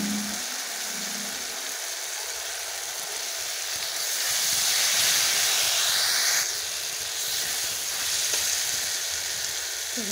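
Spice masala with chili powder and cumin powder sizzling and frying in a hot pan, a continuous loud hiss that swells and fades slightly as it cooks, with occasional stirring scrapes.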